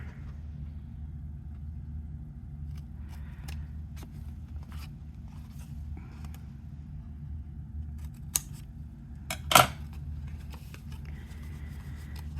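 Scissors cut material for a DIY supply folder. A few faint snips sit over a low, steady room rumble, with one sharper, louder cut near the end.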